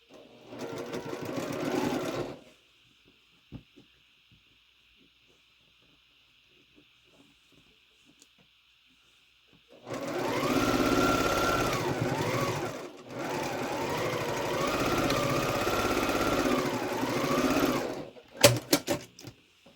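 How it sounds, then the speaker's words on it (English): Sewing machine stitching quilt star block pieces together, running steadily in two bursts of several seconds each with a short pause between, close and clear, after a brief earlier run and a quiet stretch. "And we're going to sew those together."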